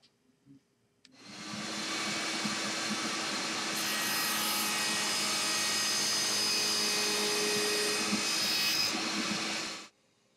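A power saw blade winds down after cutting a kerf for a lap joint on a parts storage rack. A steady, loud whirring drone holds for about nine seconds, then cuts off abruptly near the end.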